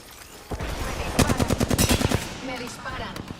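Rapid bursts of automatic gunfire in a video game, a fast run of loud repeated shots in the middle, with in-game voices and quieter shots under it.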